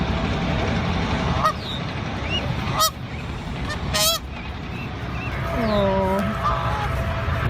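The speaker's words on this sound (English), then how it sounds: "a wild goose repeatedly knocks on a parked police car" Several loud honks from a wild goose beside a parked police car ring out at intervals over a rumbling background, with a clear run of descending honks near the end.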